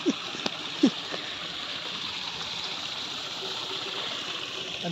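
Muddy irrigation canal water flowing beside rice paddies in the countryside: a steady, moderate rushing and gurgling stream, with a couple of brief knocks and a short voice sound near the start.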